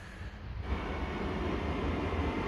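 A train pulls into a station on Sweden's Kinnekulle line, a steady loud rumble and rolling roar of rail cars building up after a quiet moment and continuing.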